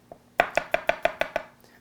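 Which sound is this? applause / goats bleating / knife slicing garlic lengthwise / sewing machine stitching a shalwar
knife slicing garlic lengthwise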